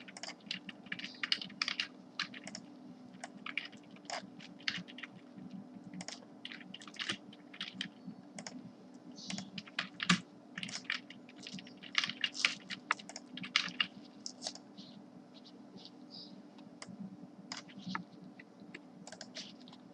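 Steady clattering of keys as someone types test details into a computer keyboard, quick irregular bursts of clicks running throughout at close range over a faint low hum, with no voices.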